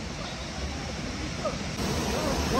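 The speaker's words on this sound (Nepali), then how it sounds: "अहिले चाहिँ हामी यो ढिङ्गे खोलामा पौडी खेल्न आएको छौँ" Rushing water of the Dhinge river where people have come to swim, a loud, steady broadband roar close by with no break, growing slightly fuller near the end.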